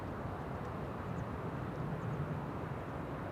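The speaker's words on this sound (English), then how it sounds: "Cathay Pacific Cargo, flight 2014, arriving from Paris" Cathay Pacific Cargo Boeing 747-8 freighter arriving from Paris at Amsterdam Schiphol Airport, a faint low, steady jet rumble heard from a distance, with no talking.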